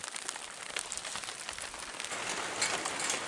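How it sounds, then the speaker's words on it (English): Steady rain patters and crackles over a homestead garden, soft and diffuse, growing slightly denser toward the end with no talking. "Hopefully they'll quit eating my garden, but yes, yes, yes, rain!"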